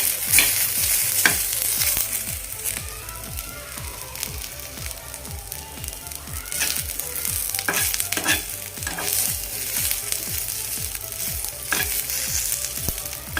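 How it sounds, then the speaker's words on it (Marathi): Garlic, ginger and onion dry-roast in a pan for golyachi aamati, sizzling steadily under a fast, regular rhythm of spatula strokes scraping and tapping the pan up close, with no speech. "हे व्यवस्थित आपण असं भाजून घेऊया लसूण आणि आलासुद्धा कांद्यासोबतच"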